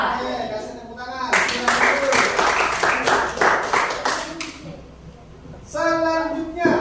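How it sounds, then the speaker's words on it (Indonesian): Classroom audience applauding after a group presentation during a school teaching session, a burst of clapping lasting a few seconds between stretches of talk by a teacher. "Oke, kasih tepuk tangan."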